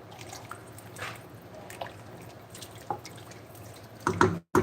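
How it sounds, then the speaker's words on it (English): Golden lentil soup with coconut aminos being stirred in a pot, soft wet squishes and drips with a few louder utensil knocks near the end. "Alright, so we're going to give this a good stir."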